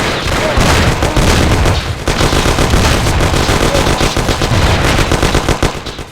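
Loud, sustained automatic gunfire from a firefight in the video game Mafia: The City of Lost Heaven, dense overlapping machine-gun bursts filling the whole stretch with no gaps.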